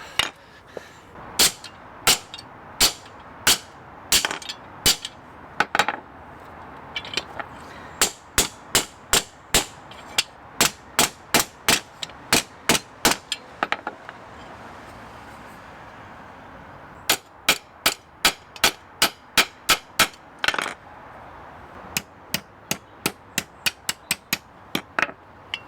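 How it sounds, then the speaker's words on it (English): A hammer strikes a metal casing over and over in a cabin after a break-in: loud, close, ringing blows in quick steady runs, separated by brief pauses, with no talking. "Go and get a bigger hammer."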